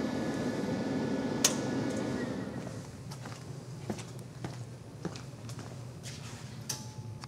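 G95 glycerin demethylator and MC12 shear condenser powering down, a steady machine drone that drops off after a few seconds, leaving a quieter hum punctuated by scattered clicks and ticks.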